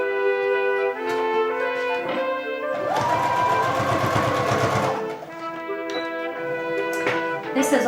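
A sewing machine stitches a reusable shopping bag made of busy patterned fabric, running steadily with a whirring motor hum that swells louder in the middle stretch.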